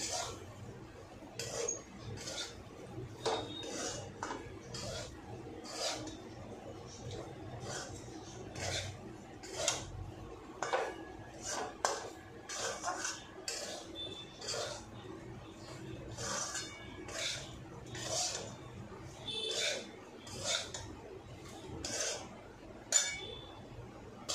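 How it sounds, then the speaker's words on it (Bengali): Semolina (suji) for upma stirred in a pan alongside softened potatoes, a spoon scraping and clinking against the metal in steady repeated strokes, close and fairly quiet over a low background hum. "এবার আমি এই যে সুজিটা আছে এটা দিয়ে দেবো, দিয়ে একটু ভালো করে ভাজবো।"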